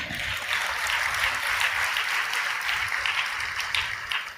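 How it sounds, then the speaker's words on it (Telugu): A church audience claps steadily throughout, a dense, sustained wash of applause close by with no talking over it. "ముష్టేసినట్టు మీరు చప్పట్లు కొడుతుంటే"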